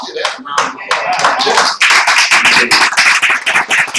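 An audience applauds at a training event. A short burst of voices comes first, then dense, loud clapping fills the rest, with some voices still mixed in.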